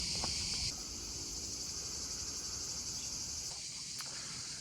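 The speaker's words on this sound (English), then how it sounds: "I'm being harassed sonically by cicadas." Cicadas buzz in a park in Tirana, Albania, a dense continuous high-pitched drone filling the air, louder at first and then settling into a steady shrill hum with no talk.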